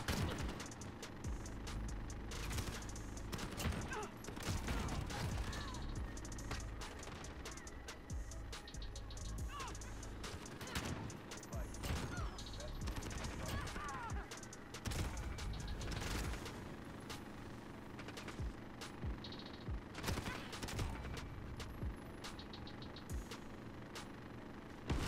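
R09 shotgun blasts from Modern Warfare, fired repeatedly in loud, uneven bursts across a dense, chaotic battle mix with other gunfire, explosions and mechanical clatter throughout.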